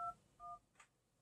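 A mid-1990s gadget plays telephone dialing tones from a phone: two short clean beeps, a clear pause between them, then a brief softer burst, all close and alone.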